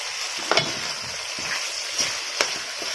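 Chicken pieces with onion and ginger-garlic paste masala being stirred in a hot pan for a village-style drumstick chicken curry, giving a steady sizzle with several soft scraping stirs across the clip.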